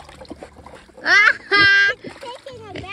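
A pig blows bubbles in water, giving two loud bursts of bubbly, squealing gurgles in the middle, while people talk around it throughout.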